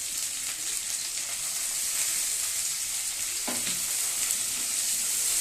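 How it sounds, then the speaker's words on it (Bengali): Chopped garlic and ginger fry in hot oil for a dhaba-style egg tadka, a loud steady sizzle with the scrape of stirring and a brief knock partway through. "আদা রসুনটা আগে ভেজে ভেজে নেব।"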